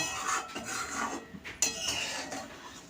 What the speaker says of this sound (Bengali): আমি এই ছানার কোপ্তাগুলো দিয়ে দিচ্ছি একটু ঝোলের মধ্যে নেড়ে দেব